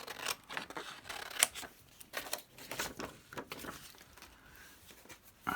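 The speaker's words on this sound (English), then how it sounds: "what I'm going to do is just cut along the border there." Scissors snip through paper along the edge of a floral craft pocket, a series of close, crisp cuts with short pauses and one sharper snip, and no talking.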